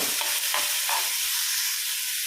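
Onions frying in a pan, a steady close hiss of sizzling with a few soft stirring scrapes near the start, alone without talk.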